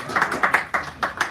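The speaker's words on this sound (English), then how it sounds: "He's giving a nice round of applause." Brief, uneven handclaps from a small audience at a San Francisco café poetry reading, about half a dozen distinct slaps heard close by in a short burst.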